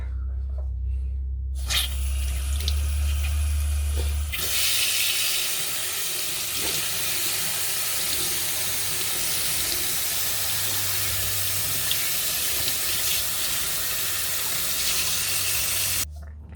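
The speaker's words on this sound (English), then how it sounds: "And that's how you can fix a splashing kitchen tap" Water runs from a repaired kitchen tap in a steady, close hiss of flow. Low handling noise comes at the start, the stream holds evenly throughout, and it cuts off at the very end.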